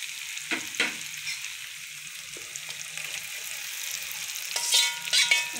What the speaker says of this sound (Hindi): अब हम लोग इसके अंदर चिकन ऐड कर रहे हैं